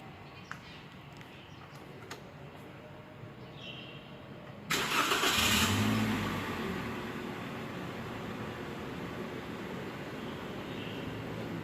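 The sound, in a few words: car engine being started and running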